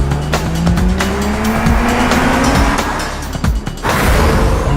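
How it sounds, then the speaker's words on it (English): An all-electric Mercedes-Benz GLC is driven hard off-road to warm its tires, producing a loud, close, continuous tire squeal with skidding and occasional thumps, with no voices. "I need to warm up these tires."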